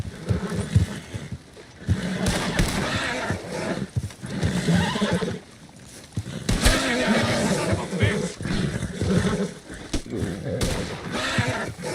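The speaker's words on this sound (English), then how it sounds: "Put Strauss on the back of John's horse, and let's get out of here" In Red Dead Redemption 2, horses neigh and whinny loudly while hooves clip-clop throughout, mixed with sharp bursts like distant gunshots in a busy, layered game scene.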